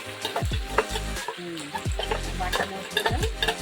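Ginger paste and green chili go into a hot pan for a Bengali home-cooked Sunday lunch, giving busy sizzling and stirring with scraping spoon clatter and several splashy bursts, close and steady throughout.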